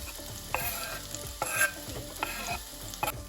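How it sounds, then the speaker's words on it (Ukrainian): Chili pepper, ginger and garlic fry in hot oil in a pan, a steady close sizzle broken by several sharp scrapes and knocks of stirring spaced about a second apart. "Розігріваємо пательню, додаємо олії, перець чилі, імбир і чеснок."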